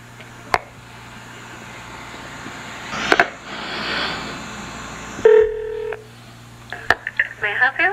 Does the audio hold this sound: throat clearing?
no